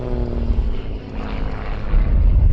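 An XA41 aerobatic plane powered by a 350 horsepower Lycoming AIO-580 engine flies at a display at Shuttleworth, giving a loud, close, rough propeller drone that dips briefly and then swells again.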